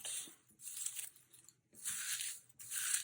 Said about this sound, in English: I'm sort of crumpling them up and then spreading them out.